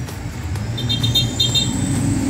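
Steady road traffic rumbles at a bridge repair crossing in Bunawan, with vehicles idling and creeping close by and a faint high horn-like tone drifting through the middle of the stretch.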